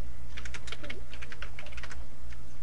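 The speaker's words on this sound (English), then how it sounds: "Type tayo ng name ng sender" Rapid typing on a computer keyboard, a close, steady patter of key clicks with no talking over it.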